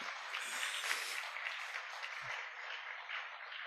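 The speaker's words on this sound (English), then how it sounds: "A round of applause, please." A roundtable audience at an oil and gas event gives steady applause, a soft, distant wash of clapping that holds even throughout, with a brief low thump partway in.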